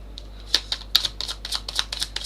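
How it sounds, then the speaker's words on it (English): Tarot cards being shuffled by hand, a rapid series of crisp, close slaps and riffling clicks in an irregular rhythm over a low steady hum, with no talking. "I want another shuffle."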